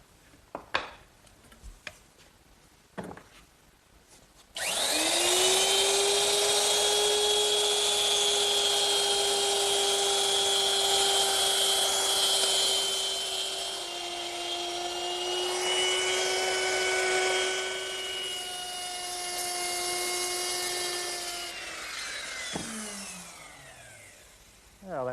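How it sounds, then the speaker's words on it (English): A wood router fitted with a round nose bit and a fence cuts material from a wooden chest-on-chest piece, giving a loud, steady high-pitched whine that runs for about twenty seconds with a slight pitch dip midway, then spins down. "I'm going to remove this material using my router, which is equipped with a round nose bit and a fence."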